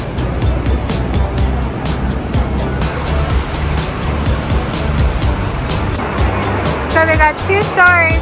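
Heavy street traffic in Hong Kong with double-decker buses rumbling past nearby, a dense continuous engine roar with passing swells; a voice cuts in briefly near the end.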